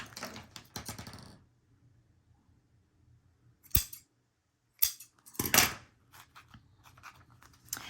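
Scissors snipping through craft paper for a boho baby scrapbook cover, heard as several sharp, close cutting bursts separated by quiet gaps.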